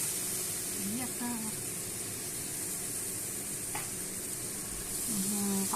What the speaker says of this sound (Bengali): ওই তেলের মধ্যে একদম পাঁচফোড়ন দিয়ে একটু নাড়াচাড়া করে নিতে হবে।